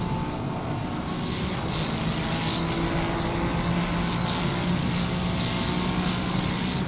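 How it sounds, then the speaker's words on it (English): A Ferrari race car engine at Imola during a sim-racing series broadcast, a steady, sustained drone with a constant tonal hum under broad noise, unbroken and moderately loud for the whole stretch, no talk. "Do love the sound of that Ferrari engine."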